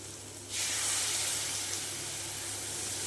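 Powdered spice masala added to tomatoes frying in a pan for rajma curry, a quiet start that bursts into a loud, steady hiss of sizzling that holds close and continuous.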